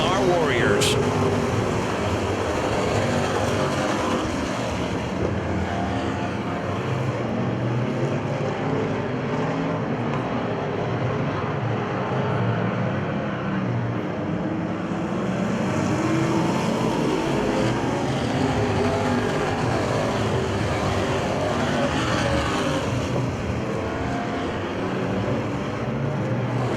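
Race cars lap Winston speedway in a continuous loud engine roar that swells and eases slightly as the field passes.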